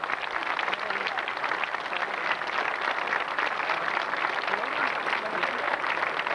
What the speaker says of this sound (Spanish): Vamos a pedir también un fuerte aplauso por los padres de Sergio